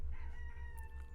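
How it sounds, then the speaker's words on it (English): A rooster crows nearby at a farm keeping Old English Game Birds and other breeds, one loud, sustained call with a faint background hum. "we have a lot of roosters like the Saramas and the Old English Game Birds"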